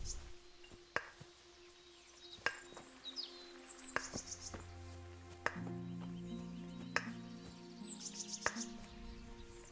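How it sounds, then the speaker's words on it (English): Someone chops wood in the medieval game Kingdom Come: Deliverance, with sharp, faint axe strikes landing at a slow, irregular pace over soft outdoor ambience and scattered bird chirps. "Somebody's chopping wood up there."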